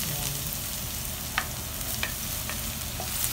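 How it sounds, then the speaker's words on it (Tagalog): Garlic frying in hot oil in a pan for pork adobo, a steady sizzle with a few short sharp scrapes of stirring at intervals, close and continuous with no talk. "Haluin lang natin para di masunog."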